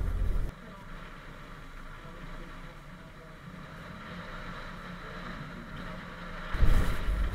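A Suzuki Alto fitted with snow socks strains up a steep snowy hill, its engine droning steadily with front wheels spinning, under a voice talking, with a louder burst near the end.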